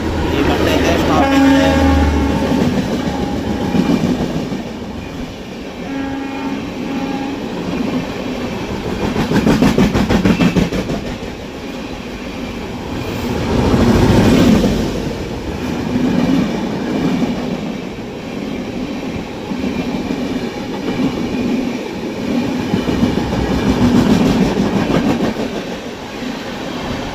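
The Golconda Express pulls out of Madhira station in a long, loud rumbling run of wheels and carriages with repeated clicking over rail joints, heard from on board, while voices talk over it.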